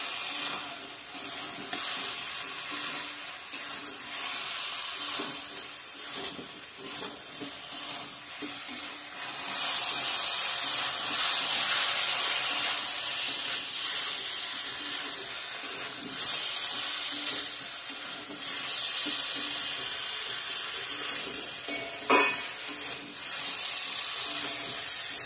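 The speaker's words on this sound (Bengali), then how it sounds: "ভালো করে মশলাটা ভাজা ভাজা হয়ে গেছে" Spice paste of cumin and coriander powder sizzles and hisses steadily in a pan while frying for a fish curry of bata fish with potato and cauliflower, a continuous close frying sound that swells midway.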